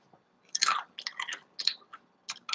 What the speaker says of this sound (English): You slide them into the oven for 10 minutes or until the desired crispness, because this is what you want to hear.